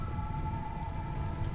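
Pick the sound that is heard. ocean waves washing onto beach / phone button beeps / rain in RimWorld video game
rain in RimWorld video game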